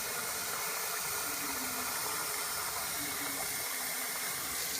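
Hot water rushing into a container to rinse out homemade laundry soap, a loud, steady, close hiss and splash running without pause.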